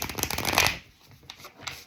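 A deck of tarot cards being shuffled up close, with a dense riffling burst followed by a few softer, scattered flicks of cards.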